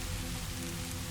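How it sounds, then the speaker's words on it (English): Steady rain falls outside a Moroccan riad, a dense continuous patter on surfaces that fills the moment evenly, with no voices over it. "The rain is falling,"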